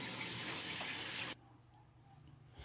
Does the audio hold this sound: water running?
yes